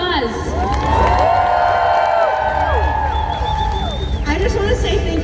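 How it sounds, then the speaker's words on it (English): A convention audience at Metrocon 2024 gives a cosplay team another round, a dense sustained roar of cheering, whoops and high shouts over clapping, loud and full throughout. "let's give them one more round of applause"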